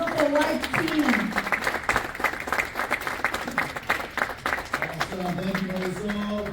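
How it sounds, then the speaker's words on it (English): A live audience claps and cheers in a sustained, dense wave of applause welcoming a man and his wife at an event. It stays steady and loud from start to finish, with tonal music or voices underneath. "if you could please give me a big round of applause"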